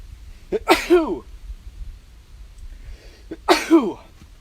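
Two sharp sneezes, close and loud, separated by a few seconds of quiet, each with a quick intake and a forceful burst.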